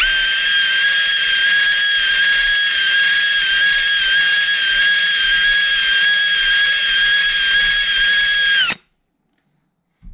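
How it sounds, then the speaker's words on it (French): A power drill spins a cylinder hone lubricated with WD-40 inside the block of a 1993 Cadillac Northstar 4.6 L V8, giving a loud, steady high whine that runs unbroken for about nine seconds and then cuts off abruptly into silence. "on monte ça dans la perceuse, du WD-40, qui est une très bonne huile de rodage"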